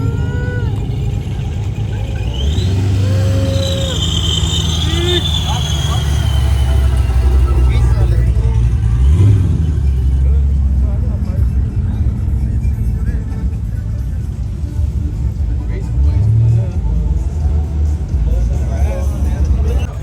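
A car pulls up at a trucks and coffee meet, its engine a steady rumble running through the whole stretch, with people talking nearby over the crowd noise.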